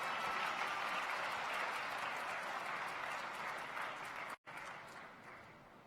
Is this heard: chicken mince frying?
no